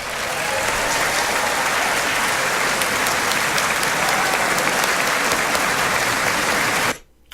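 Sustained applause from a large political audience, dense and steady clapping at close range for about seven seconds before cutting off abruptly.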